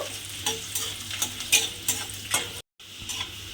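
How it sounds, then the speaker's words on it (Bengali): Chopped onions fry in a pan, a soft, steady sizzle broken by quick scraping strokes as a spatula stirs them at a brisk, uneven pace, close by and alone. "দিয়ে এবারে পেঁয়াজটাকে আমি একটু লাল করে ভেজে নেব।"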